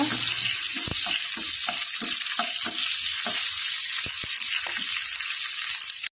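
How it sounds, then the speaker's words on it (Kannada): Crushed garlic and curry leaves fry in oil in a pan, making a loud continuous sizzle with a run of sharp clicks and scrapes from stirring, heard up close with no speech. "ಒಂದು ಪ್ಯಾನಿಗೆ ಎರಡು ಟೇಬಲ್ ಸ್ಪೂನ್ ಎಣ್ಣೆ ಅದಕ್ಕೆ ಬೇಗ ಜಜ್ಜಿದ ಬೆಳ್ಳುಳ್ಳಿ ಬೇಯಿನ ಸೊಪ್ಪು ಸ್ವಲ್ಪ ಫ್ರೈ ಮಾಡಿಕೊಳ್ಳುವ"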